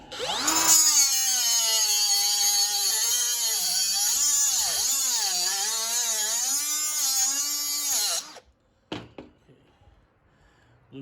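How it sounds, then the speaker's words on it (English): A power tool grinds an aluminum grip's prongs in one loud continuous whine for about eight seconds, its pitch wavering as pressure changes, then cuts off, followed by a few short clatters and near silence. "Aluminum is kind of hot when you grind it."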